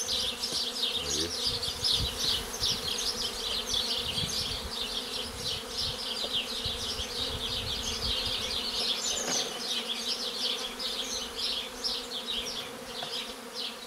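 A dense swarm of honeybees on the ground buzzing steadily and close by, a continuous droning hum with no voices.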